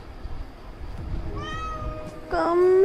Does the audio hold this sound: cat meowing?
yes